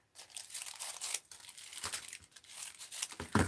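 Magazine paper is trimmed at the edges, producing close, continuous crinkly rustling and tearing-like crunches that swell and fade across a few seconds, with no voices.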